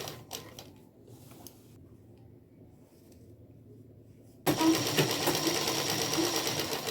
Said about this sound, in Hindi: अब इसके ऊपर हमें सिलाई लगानी है